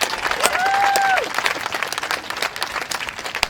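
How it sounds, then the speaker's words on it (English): A crowd at a Queensland rally against greyhound racing breaks into a round of applause, loud and sustained, with a tonal sweep over the clapping near the start and a voice carrying through. "let's get a big round of applause"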